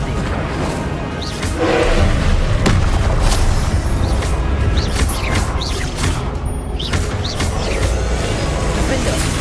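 Spell-casting in Hogwarts Legacy: a fiery Incendio burst booms loudly and crackles amid continuous game effects and whooshes, with a few more magical blasts following.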